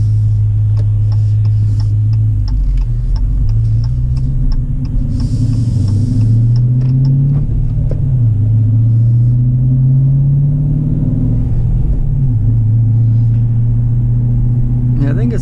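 A deep, burbling 6.4L Hemi V8 in a 2018 Dodge Challenger R/T 392 Scat Pack with an AIRAID cold air intake idles in normal mode, rumbling steadily up close, its low throb shifting slightly in pitch with faint ticking above.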